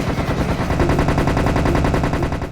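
Tommy gun firing in the Serious Sam HD video game, a steady, rapid automatic burst that rattles on without a break for the whole stretch, loud and close.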